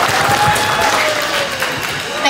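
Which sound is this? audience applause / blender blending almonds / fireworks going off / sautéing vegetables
audience applause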